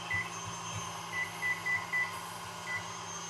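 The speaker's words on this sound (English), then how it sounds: "And I'll set a timer" Kitchen timer being set while a mixer beats a butterscotch pie filling, a few short electronic beeps in an irregular cluster over a low steady hum, faint and close.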